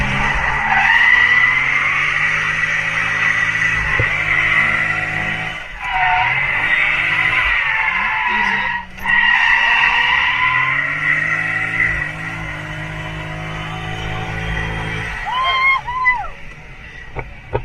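A Chevrolet C6 Corvette drifts with tires skidding and squealing in long loud sweeps over a throaty engine roar, a short break between slides, with excited voices in the car.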